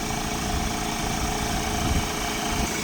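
A Ford Transit van engine idling during a workshop repair of the particulate filter pressure sensor circuit, a steady low hum with faint vibration and no talk over it.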